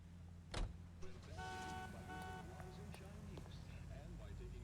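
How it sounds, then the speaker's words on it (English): A car horn honks in the L.A. Noire video game, a short run of sustained blasts over a steady idling engine rumble, with faint background voices. "The honking won't make me drive any faster."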